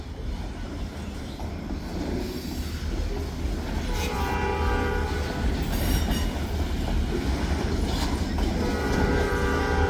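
A nearly mile-long freight train rumbles past close by, heavy steady roar with rhythmic wheel clatter and a sounding horn joining partway through.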